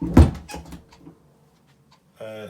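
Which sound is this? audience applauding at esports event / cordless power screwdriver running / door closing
door closing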